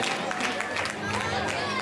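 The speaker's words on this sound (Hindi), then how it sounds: "देवी और सज्जनों, तालियां बजती रहे।" Audience applause at the Valsad Patel Samaj Diwali party during a KBC-style quiz show, a dense, steady wash of clapping that fills the whole moment at close range, with crowd voices mixed in underneath.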